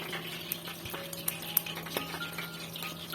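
Chicken kabab frying in oil gives a quiet, steady sizzle, with a few soft clicks and taps from a utensil scattered on top.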